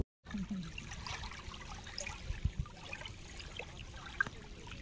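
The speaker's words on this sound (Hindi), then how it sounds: "पानी बहुत बढ़ा हुआ है और जा रहा है" The flooded Son river flows past in a quiet, steady trickling wash with a few soft splashes, heard faintly and alone.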